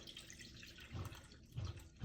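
Tap water runs quietly into a kitchen bowl as rice is washed, with a soft continuous trickle and a few low sloshing thumps, no one talking.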